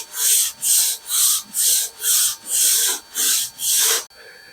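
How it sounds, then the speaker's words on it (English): Sandpaper wrapped around a wooden dowel rubs the edge of a molded hood scoop in eight steady, evenly spaced rasping strokes, close and alone, ending with a quiet knock. "we're going to wrap some sandpaper around it, and that's how we're going to finish up"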